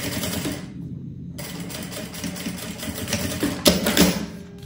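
A sewing machine stitches fabric for a backpack, its steady rapid needle rattle running loud and close nearly throughout, with a brief pause near the start.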